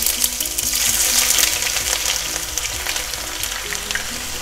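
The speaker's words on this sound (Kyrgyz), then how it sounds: "Май жакшылап кызыды, эми пиязды салып кууруйм." Onion fries in hot sesame oil, a loud, steady sizzle with bursts of crackle and faint stirring scrapes, close by and without talk.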